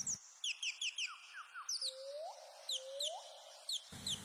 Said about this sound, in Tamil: காதுகளில் பறவைகளின் சத்தங்கள்